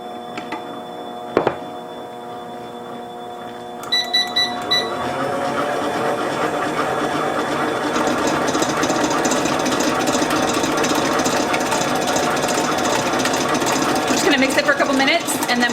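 Electric mixer whirring steadily as it beats cinnamon roll icing of vanilla and half and half, starting after a few clinks and running continuously near and fairly loud to the end.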